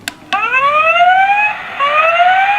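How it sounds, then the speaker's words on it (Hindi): A toy siren wails in rising electronic sweeps, two clicks starting it, then a long climbing tone that restarts once, loud and close with no talk over it. "सायरन, सायरन, ऐसे सायरन बज जाएगा।"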